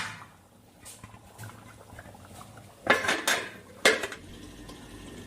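A metal lid settles onto a pot of katla fish kalia with two sharp clanks close by, amid quiet kitchen rattles and faint clinks before and after.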